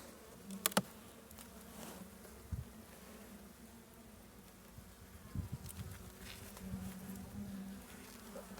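Honey bees hum in a low, steady drone around a hive during a spring colony inspection, faint and continuous, with a few soft knocks and brief closer buzzes passing by.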